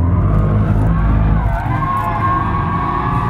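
A BMW i4 M50 electric car accelerates hard on boost, a loud, steady motor hum and road roar held close throughout, with no talking over it.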